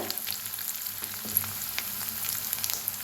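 Spices with red chili powder, turmeric, garlic masala and curry leaves roast in a pan, producing a quiet, close crackling sizzle with light stirring scrapes and no voices.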